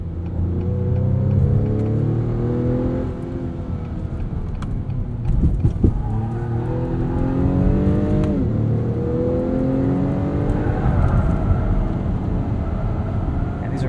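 A 2021 Acura TLX Advance SH-AWD accelerates hard on paddle shifters, the engine note climbing steadily and dropping at each quick upshift, heard loud from inside the cabin with no one talking.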